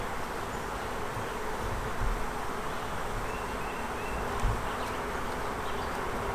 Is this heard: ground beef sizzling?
no